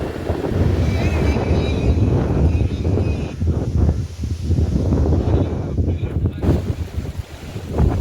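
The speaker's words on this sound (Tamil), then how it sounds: "சரியான காற்று." Strong gusty wind buffeting the microphone partway up Kondarangi mountain, a loud continuous roar that rises and dips, with no voices heard.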